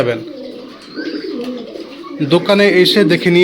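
Pigeons kept in cages coo in soft, throaty calls close by, with a louder burst of cooing near the end. Someone talks over the birds.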